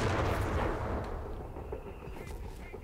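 Whiz-bang rocket artillery fires in Company of Heroes 3, a loud rumbling blast that opens the clip and trails off into a fading roar, with a voice talking over it.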